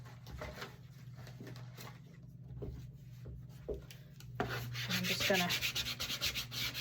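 A card burnishes paper down on a Halloween book stack craft, first as faint intermittent scrapes and then, after a few spoken words, as a louder run of close, rhythmic rubbing strokes.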